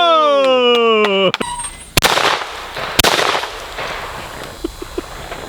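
Shotgun blasts at an outdoor shooting range at a golf resort, two sharp, loud reports about a second apart, with a few fainter clicks after and tonal electronic music fading out beforehand.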